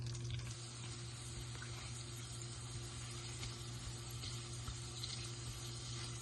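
Cumin seeds, whole dried red chillies and curry leaves frying in hot oil for a tadka, a steady, close, continuous sizzle with a low hum underneath and no talk.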